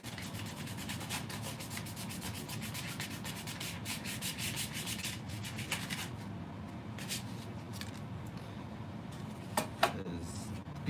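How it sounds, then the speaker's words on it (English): Sandpaper scuffs the painted bottom of an RC4WD Toyota scale truck bed by hand, a steady close rasping rub that runs almost continuously, with a few short knocks near the end. "where's my sandpaper? Scuff up the bottom a little bit here."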